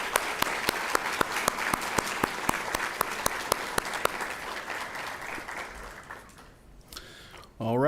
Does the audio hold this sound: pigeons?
no